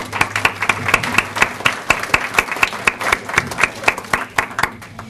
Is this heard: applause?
yes